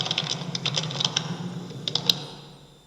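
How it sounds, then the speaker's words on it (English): Crisp computer keyboard keystrokes tap in a quick uneven run, close and clear, then fade into quiet room tone near the end; no voices. "in terms of the sound that the keyboard is offering"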